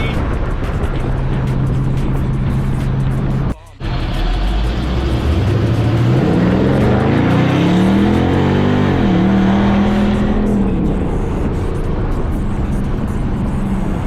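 A 2019 Dodge Charger R/T with longtube headers roars from inside the car while driving, a deep loud exhaust drone that drops briefly at a shift, then climbs in pitch under hard acceleration and eases off.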